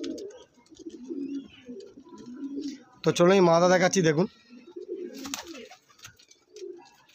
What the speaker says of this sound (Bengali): এই হচ্ছে পায়রাগুলো সব ছাড়া আছে